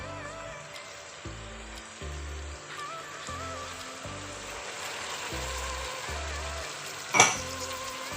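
Vegetables seasoned with peri-peri and soy sauce sizzle steadily in a hot pan, a continuous close crackling hiss under background music, with a brief sharper spatter toward the end.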